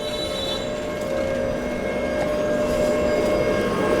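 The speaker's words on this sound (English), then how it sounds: "trams are a nuisance when you're filming" A tram runs along its rails near Hillsborough corner in Sheffield, a steady mid-distance rumble carrying a thin tonal wheel whine throughout.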